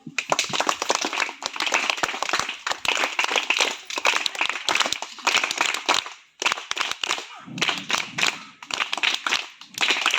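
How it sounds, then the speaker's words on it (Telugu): A room full of people claps to welcome a guest, brisk dense applause lasting several seconds, dipping briefly and resuming, close and loud with no talking over it. "ఒక్కసారి అందరూ ఆయన్ని క్లాప్స్ తో ఆహ్వానిద్దామండి"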